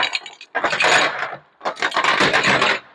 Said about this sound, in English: we need to run the long chain back through here